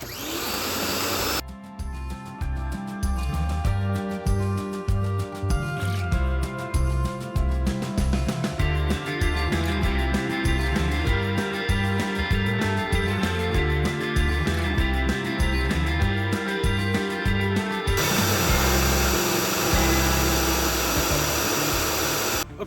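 A Rock&Rocker pressure washer runs with no nozzle tip while filling a 5-gallon bucket, a loud continuous motor drone with buzzing pump pulses and rushing water, steady for most of the stretch without talk.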